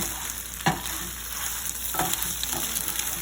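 Scrambled eggs cook in a pan over medium-low heat with a soft, steady sizzle, while a spatula pushes them back and forth in a few scraping strokes.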